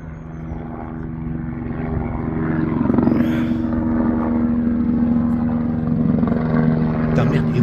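A helicopter's steady rotor drone swells and holds loud as it passes, with a low propeller hum throughout and some muffled background noise.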